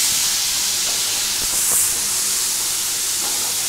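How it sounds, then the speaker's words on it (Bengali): Pumpkin halwa sizzles and hisses steadily in a frying pan, a loud, continuous bright frying sound with a few faint stirring scrapes and no talking. "এটাকে একটু ভালো করে ভাজতে হবে।"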